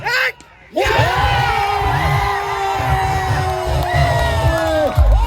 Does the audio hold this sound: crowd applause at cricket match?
yes